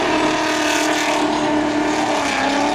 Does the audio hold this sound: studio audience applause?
no